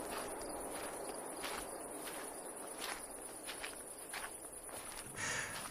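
Quick footsteps hurry along a narrow dirt forest path in a village at night, a steady run of soft, fairly faint steps beneath a constant chorus of crickets and insects.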